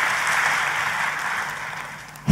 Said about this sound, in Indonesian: Boleh sekali lagi tepuk tangannya yang paling meriah buat Yesus Tuhan kita.